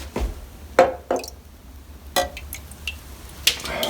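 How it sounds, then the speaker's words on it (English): Toilet bowl water scooped into a clear glass, giving a few separate soft splashes, drips and light glass clinks spread over a few seconds, close and fairly quiet. "Let's take some bowl water."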